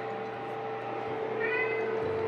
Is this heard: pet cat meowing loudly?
yes